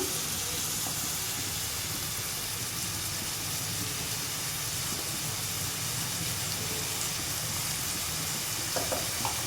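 Chili and spices being stirred in a frying pan with oil while cooking onion and soybean, a steady close sizzle and hiss running throughout with faint scraping of the stirring.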